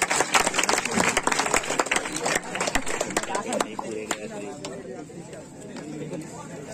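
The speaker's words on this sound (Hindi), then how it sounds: "ताली बजाऊंगा जी।" Applause at a village sports prize ceremony for a rural Chhattisgarhi Olympics event: a crowd claps in dense, crackling bursts that fade over the last seconds, with voices chattering underneath.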